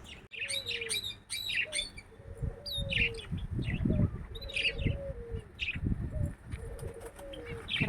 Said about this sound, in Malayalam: പ്രാവും, മൈന, പിന്നെ ലവ് ബേഡ്സ്,